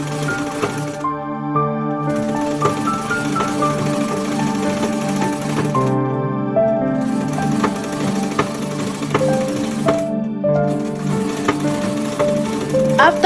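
A sewing machine stitches a button-up school uniform shirt close by, running in long steady bursts broken by brief pauses.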